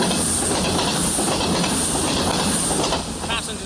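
A British railway train runs loudly and steadily over the track close by, its rumble, hiss and wheel rattle filling the whole stretch with a brief squeal near the end and no talk.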